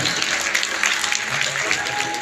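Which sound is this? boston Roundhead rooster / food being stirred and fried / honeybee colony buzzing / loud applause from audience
loud applause from audience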